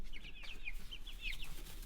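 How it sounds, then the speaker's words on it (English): Several chickens and chicks cluck and chirp softly nearby in quick, overlapping bursts, against a low steady background hum. "We have living chickens."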